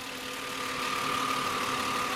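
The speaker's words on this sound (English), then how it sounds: "It does have a V8 engine, it's a 4-liter." A 2010 Ford Explorer's 4-liter V8 idles quietly, a faint steady hum with a thin whine, heard alone with no talk.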